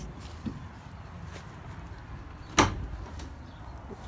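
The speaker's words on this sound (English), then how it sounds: "Let me open the double doors back here." Rear double doors of a Ram ProMaster 1500 van, a single sharp latch clunk and swing as a door opens, fairly close and moderately loud, over faint background hiss with a soft knock earlier.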